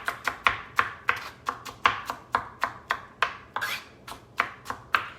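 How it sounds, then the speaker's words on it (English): A knife chops cucumber into small pieces on a cutting board during meal prep, giving a steady run of about twenty crisp, close knocks at a brisk, slightly uneven pace with no talking. "You could use the mandolin as well to chop up your cucumber into little pieces. But I'm just going to chop."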